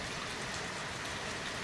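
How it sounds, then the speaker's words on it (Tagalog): Heavy rain pours steadily in a dense, continuous hiss, close and loud, with no voices over it. "Lalo lumalakas yung ulan mga kabokals."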